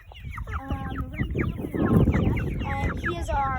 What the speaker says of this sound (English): And he is our leghorn or white layer chicken. He is a rooster, so he doesn't lay eggs.